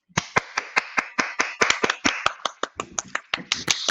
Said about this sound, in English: We don't have the button to make the round of applause, but I'm gonna do it from this way.